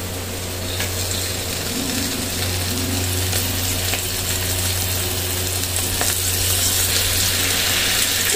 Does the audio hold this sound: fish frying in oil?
yes